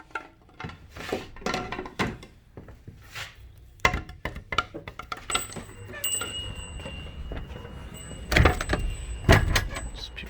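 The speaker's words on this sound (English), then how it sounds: "I'm going to hang this sign on the door." A sign being hung on a shop door beside a newly built Kona Sutra LTD bike: a string of close knocks, rattles and clatters of door hardware, with a louder cluster of bangs near the end, no talk.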